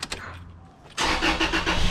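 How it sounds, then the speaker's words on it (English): A 2012 Toyota Tacoma engine cranks briefly and catches just after a quiet pause, then settles into a loud, steady idle right after an oil change. "So I'm going to start up the vehicle."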